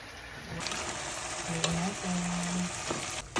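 A pot of tomato chicken stew bubbles and hisses close by with a steady frying-like sizzle, a brief low hum and a couple of utensil clinks over it.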